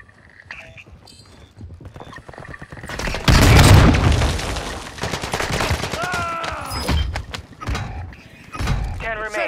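A claymore mine explodes in the first-person shooter Call of Duty: Modern Warfare II, a loud, close blast that rumbles for a couple of seconds, surrounded by scattered gunfire, clattering and other game effects.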